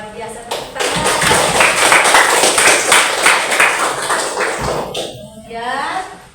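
A classroom of students claps on a teacher's cue during an Islamic history lesson, a dense burst of hand clapping lasting several seconds over room noise and voices, then breaking off.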